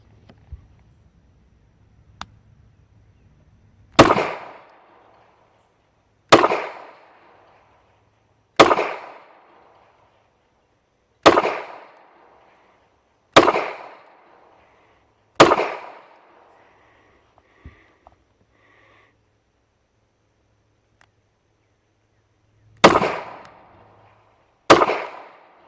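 An older Canik pistol fires at an outdoor range, eight loud sharp gunshots spaced a couple of seconds apart with a longer pause midway, each followed by a brief echo and near silence between.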